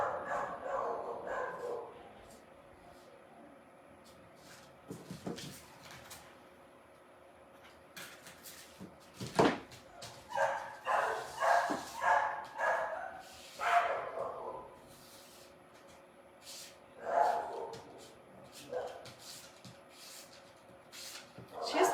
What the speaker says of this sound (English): barked more this week than ever